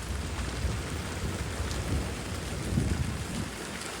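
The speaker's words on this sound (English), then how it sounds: "The thunder is continuous. I mean, it's rolling thunder." Heavy rain pours in a dense, continuous hiss while long rolling thunder rumbles low and steady beneath it during a strong windy storm, with no voices.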